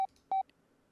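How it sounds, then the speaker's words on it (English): Phone keypad tones in the video game Unmemory: two short dial beeps, the second slightly longer, followed by a faint blip, crisp and isolated against near silence. "it's one of the phones that has the letters and stuff"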